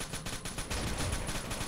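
Rapid automatic gunfire in the video game Rainbow Six: Shadow Vanguard, a dense burst of shots fired in quick succession that fills the whole moment, loud and close with no talking.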